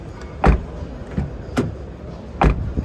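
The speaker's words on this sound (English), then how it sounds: "solid opening and closing sound for a small hatch" Rear door of a 2023 Mazda 2 Hybrid small hatchback opened and shut, giving three sharp, solid thuds at intervals with faint mechanical clicks between them and no voices.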